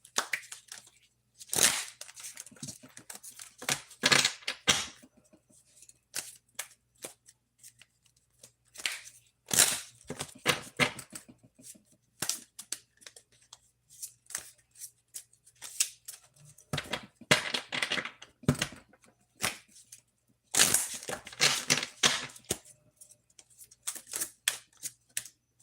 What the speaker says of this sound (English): when you want me to stop shuffling